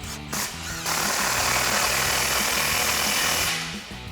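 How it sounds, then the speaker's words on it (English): An impact wrench with a 15mm socket tightens exhaust clamps on an EcoBoost F-150, giving a close, loud burst of rapid hammering that runs about three seconds after a short first blip. "We're gonna tighten down our main clamps."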